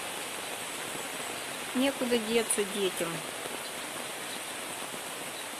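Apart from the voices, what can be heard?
pouring rain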